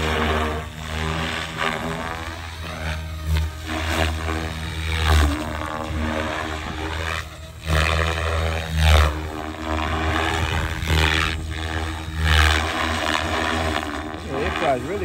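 SAB Goblin Raw 500 RC helicopter hovering with its rotor spinning at 2400 RPM, a loud steady whine with pitch sweeps as it maneuvers nearby. Talking is heard intermittently over the engine noise.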